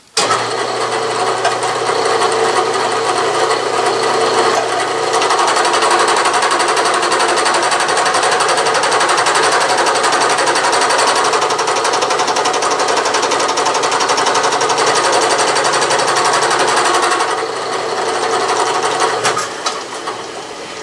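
A Bridgeport milling machine cuts gear teeth by the plain indexing method, running as a steady, loud, continuous machining whine and grind for about twenty seconds, easing briefly near the end.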